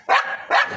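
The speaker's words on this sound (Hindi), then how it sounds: "क्यों भौंक रही है, किस चीज़ में भौंक रही है" A dog near a kennel gives two loud, sharp barks about half a second apart, close and alone, each trailing into a short rough tail.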